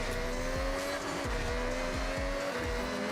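A 2017 Ford GT races in Forza Horizon, its engine holding a steady high whine while tyres squeal and repeated gear shifts drop and rise the pitch in a regular rhythm, loud and continuous.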